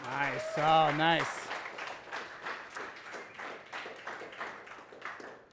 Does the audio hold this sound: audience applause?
yes